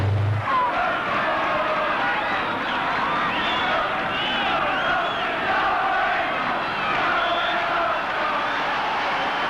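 Crowd noise from around 3,000 supporters at a Wimbledon FC versus Exeter football match, a steady distant babble of shouts and chatter filling the ground without pause.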